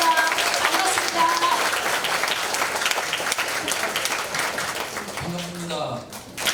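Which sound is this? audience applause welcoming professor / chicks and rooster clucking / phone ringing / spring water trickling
audience applause welcoming professor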